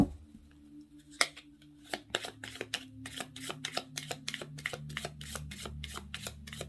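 A tarot deck is handled close up: soft riffles and sliding card sounds, then a run of quick, crisp snaps as the cards are shuffled and drawn, growing denser toward the end, with no talk.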